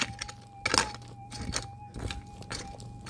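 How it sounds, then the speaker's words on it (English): A steel pick strikes quartz rock in repeated sharp, cracking knocks at an uneven pace, fairly close and moderately loud, with a faint ringing tone behind them. "The sound I'm talking about is the sound of steel hitting quartz."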